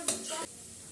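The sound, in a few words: garlic frying in a pan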